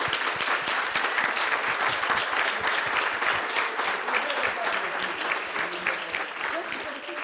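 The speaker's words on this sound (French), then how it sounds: "une belle main d'applaudissements" An audience at a round-table event on parity claps steadily and loudly for the whole stretch, a dense, continuous round of applause.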